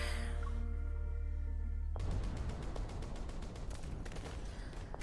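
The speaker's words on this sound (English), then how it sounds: "the continuous metaflux explosion makes my heart pound like a drum" Continuous metaflux explosions in a video game, a sudden burst after a low droning tone, then rapid, repeated crackling blasts like a fusillade that keep going steadily to the end.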